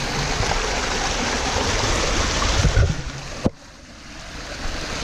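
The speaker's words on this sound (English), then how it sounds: "We got some water moving." Water rushing out through a breach in a beaver dam, a steady close gush and rush of flowing water, broken by a brief thud before the sound becomes quieter and more muffled.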